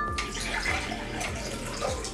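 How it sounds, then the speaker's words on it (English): Water pours steadily into a bigger bowl for a home volcano plaster project, a continuous close splashing gush that holds for about two seconds without talk. "pour 8 ounces of water into a bigger bowl"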